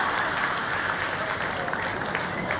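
An audience at a children's dance event claps steadily, a dense, continuous patter of many hands at moderate loudness that stops abruptly at the end.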